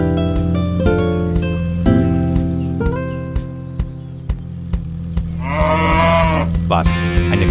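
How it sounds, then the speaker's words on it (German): A cow on the road moos in long, loud, drawn-out calls over a steady droning background, with a brief higher squeal near the end. "Eine Kuh auf der Straße?"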